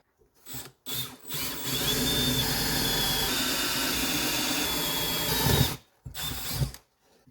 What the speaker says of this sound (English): might as well drill some pilot holes